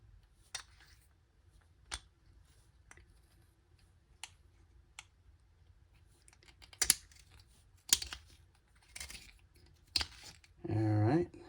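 A Juzek violin peg shaper shaving a wooden peg gives sparse, close, sharp clicks and scrapes that grow denser and louder toward the end, ending in a brief voice.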